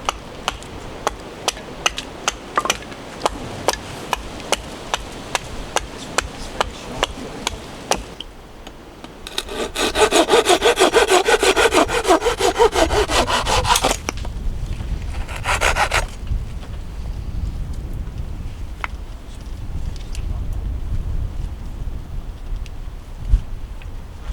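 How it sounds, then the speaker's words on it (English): A knife scrapes and carves a wooden bow drill fire board in rhythmic strokes, then a louder stretch of steady rasping and sawing before quieter scraping resumes. "I've been carving my board for my"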